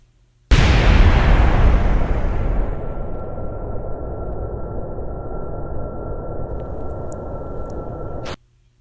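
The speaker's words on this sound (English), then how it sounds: "There I launched the AIM 9L-M" An AIM-9 Sidewinder missile is launched from an F-15 Eagle in Kerbal Space Program. It opens with a sudden loud blast, and a steady rushing roar follows for about eight seconds before cutting off abruptly.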